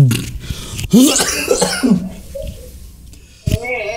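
A couple of throaty coughs mixed with voice sounds, close and fairly loud, followed by quieter murmuring and a short sharp burst near the end.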